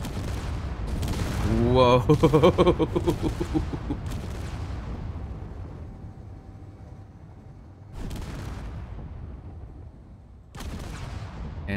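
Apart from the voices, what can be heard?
ship crashing into blocks and exploding in Space Engineers video game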